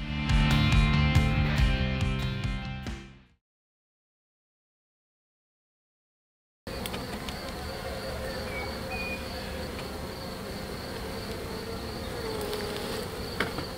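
Bees buzzing, a steady close drone that fills the second half after a burst of music and a stretch of silence.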